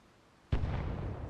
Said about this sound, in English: we got explosions down there